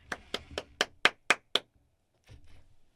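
Seven sharp hand claps in a steady, fairly quick rhythm, close and loud, followed by a brief pause and a soft murmur of movement.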